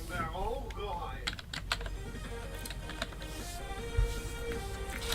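Typing on a laptop's computer keyboard gives irregular clusters of crisp key clicks over a steady background hum, with a louder thump near the end and no talking.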